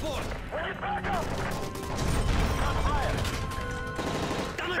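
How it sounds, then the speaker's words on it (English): Rapid gunfire rattles and crashes during a plane hijacking in the video game Call of Duty: Modern Warfare 3, with dense bursts of shots over shouting voices throughout. "That gunfire! Hijackers are taking the plane!"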